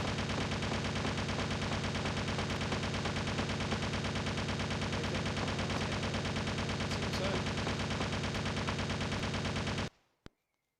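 Sustained rapid submachine-gun fire in the video game Resident Evil Survivor, a dense unbroken stream of shots for about ten seconds that stops abruptly, followed by a couple of faint clicks.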